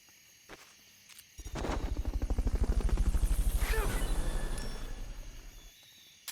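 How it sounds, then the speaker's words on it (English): A helicopter in Metal Gear Solid: Peace Walker, its rotor thumping in a rapid steady rhythm that swells loud, then fades and stops, with a faint voice briefly in the background. "Fulton recovery subject confirmed onboard helicopter"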